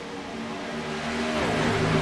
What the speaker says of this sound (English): Derek Norton on the loud pedal. Green flag back out